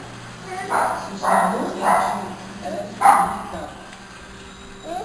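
A dog barks four or five times in uneven bursts, fairly close, with a person talking softly between barks.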